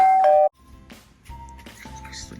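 A short, loud electronic doorbell-style notification chime rings once at the start, then cuts off, leaving faint rustling and low background noise.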